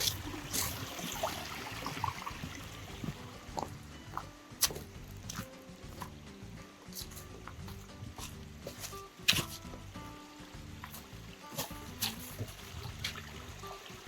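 Small stream trickling beside a hiking trail on the Ouachita Trail, a steady soft watery patter with scattered splashes and clicks, fairly faint and continuous, with no one speaking.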